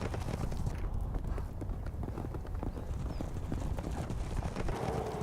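Wild horses run across open Wyoming range during a roundup, their hooves clip-clopping in a fast, continuous rhythm, with a faint whinny in the mix.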